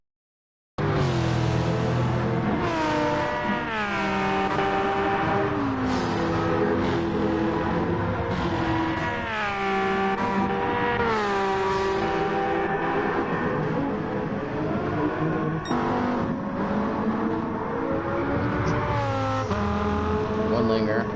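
Race cars in a Gran Turismo 7 vintage Le Mans endurance race roar through repeated upshifts and engine whines, loud and continuous, while a commentator talks over them.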